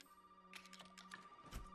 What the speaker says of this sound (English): We have to answer the phone.